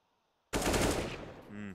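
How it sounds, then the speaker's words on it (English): AK rifle gunfire in Counter-Strike at a professional IEM Dallas 2022 match breaks into a loud, close burst of rapid shots after brief silence, then fades into a short electronic game tone. "D has got an AK here."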